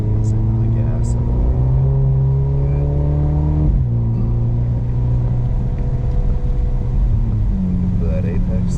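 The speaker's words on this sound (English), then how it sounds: "Now ease into the gas." Mercedes SL45 accelerating on the Harris Hill Road race track, a loud, steady engine drone rising in pitch, dropping briefly at a gear change, then climbing again.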